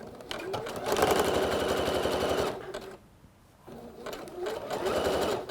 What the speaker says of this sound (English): we're just gonna stitch everywhere we just pinned